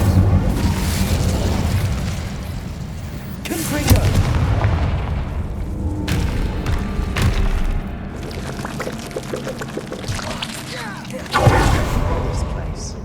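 The Incendio fire spell is cast in Hogwarts Legacy gameplay on PS5, with several loud, booming whooshes of flame bursting over continuous game ambience, the blasts recurring at intervals.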